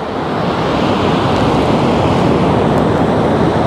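Dynjandi waterfall in the Westfjords of Iceland roars with water crashing down, a loud, steady, unbroken rush with some wind buffeting the microphone and no speech.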